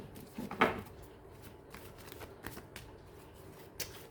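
A deck of tarot cards is shuffled, and cards are drawn from it, close and quiet: one brief riffling burst followed by faint soft flicks and taps.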